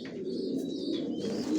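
Young racing pigeons of the Johnson line coo softly and continuously close by inside a loft.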